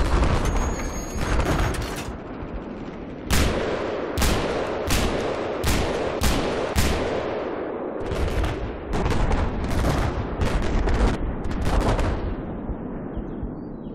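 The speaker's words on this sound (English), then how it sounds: "Where the fuck is this guy shooting me from?" Gunfire in the video game Battlefield 4, with loud, sharp shots in bursts and single cracks repeating throughout over a constant rumbling battle background.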